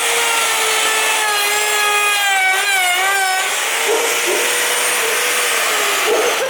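A wood router cuts into wood with a loud, steady high-pitched whine that rises and wavers in pitch as it bites, running continuously without a break.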